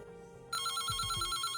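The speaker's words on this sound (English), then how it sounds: "The phone rings, cutting her off" A telephone ringing in the game Reverse: 1999, a sudden electronic ring that starts abruptly partway through and repeats in short bright pulses over a faint background, with no talk.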